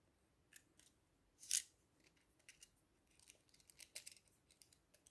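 Scissors snip through felt and ribbon while a Christmas felt heart decoration is being made, a few quiet sparse cuts with one sharp louder snip near the middle, close by in a quiet room.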